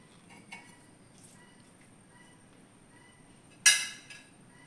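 Grated coconut is stirred into a moong bean thoran in a pan, giving soft scraping taps against quiet background hiss, then one sharp metallic clink near the end.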